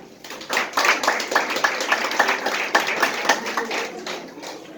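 An audience claps for school staff at a school event, steady crowd applause with distinct individual hand claps, while a voice speaks over it.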